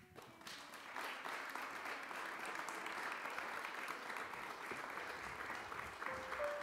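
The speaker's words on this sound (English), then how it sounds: "So give them a warm round of applause." Audience applause for a jazz band at a benefit concert, steady dense clapping from a crowd sustained for several seconds, fairly distant in the room.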